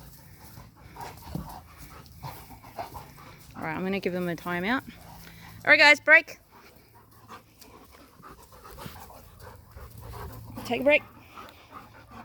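Dogs pant after rough play indoors, soft rhythmic breathing with a few yips and whimpers, while a trainer speaks over them.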